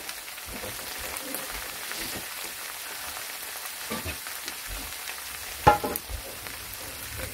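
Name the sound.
carrots cooking in pan for pork fried rice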